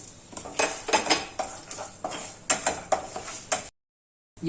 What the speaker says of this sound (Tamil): இதை கொஞ்சம் வறுத்துக்கிறேன் ரெண்டு கிராம்பு வெந்தயம் ஏலக்காய் பட்டை